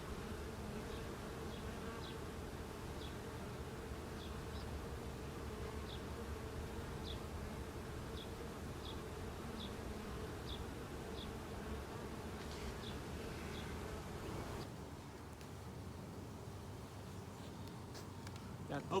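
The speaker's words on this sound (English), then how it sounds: "And Jim's going to smoke these bees, see how they're on top" Honey bees buzz around an open hive in a continuous, fairly soft drone that holds steady throughout, with faint chirps scattered above and a slight drop near the end.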